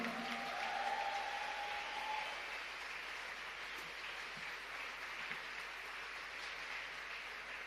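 Sustained applause from a concert crowd after a song, a dense steady clatter of clapping hands that continues evenly throughout, with a brief whistle-like tone near the start.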